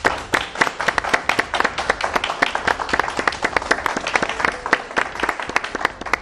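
A television studio audience breaks into sustained applause, dense rapid clapping from many hands that holds steady and loud throughout with no one speaking over it.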